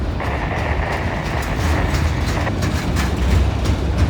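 Freight cars roll steadily past a trackside defect detector, a close, continuous rumble with repeated metallic clanks and rattles from the wheels.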